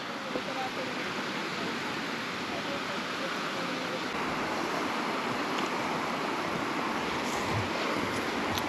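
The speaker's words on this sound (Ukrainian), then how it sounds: "Річка тече." Steady broadband rush of the Svicha River in the Carpathians, continuous and fairly close, running over stones, with no pauses throughout.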